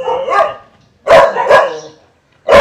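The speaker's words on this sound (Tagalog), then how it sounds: "Pasensya na kayo sa mga aso." Dogs at a house and lot in Subic bark loudly and close by, three sharp bursts of barking separated by short silences.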